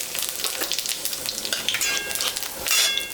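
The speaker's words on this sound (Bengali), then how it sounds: "মাছ ভাজা তেলের উপরে আমি শুকনো লঙ্কা," Dried red chili and cumin dropped into hot oil left from frying katla fish, crackling and spitting in a close, busy sizzle with stirring throughout.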